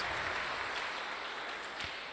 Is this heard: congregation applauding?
yes